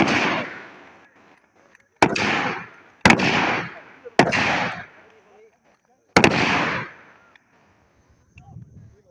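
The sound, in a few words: gunshots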